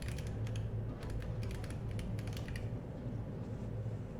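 Soft, rapid clicking of a computer keyboard while coding in the Godot 3.4 game engine, a quick run of keystrokes over a constant low hum that tapers off toward the end.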